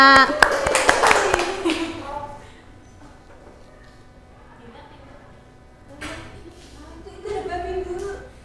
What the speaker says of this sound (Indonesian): Tepuk tangan untuk Mbak Dina.